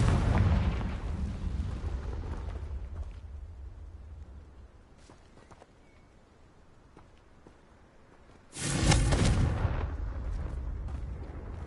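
A Confringo blasting spell goes off in a Hogwarts video game as a deep, rumbling explosion, loud at first and fading, followed later by a second sharp, heavy blast.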